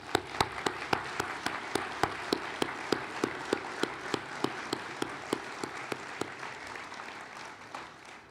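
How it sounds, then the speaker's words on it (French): Audience applause at a mayor's New Year greetings ceremony in a town hall, a steady sustained clapping from many hands with sharp individual claps standing out, continuing for several seconds before tapering off at the end. "nous devons les encourager sous vos applaudissements."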